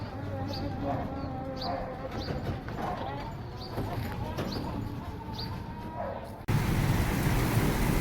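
Rain falling outdoors over an open field: a steady, dense patter that continues throughout and swells louder near the end, with voices and faint chirps in the background.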